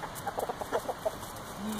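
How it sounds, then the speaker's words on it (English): Chickens and roosters cluck in quick, uneven bursts close by, with a short low call at the end; no talking. "all the roosters are first"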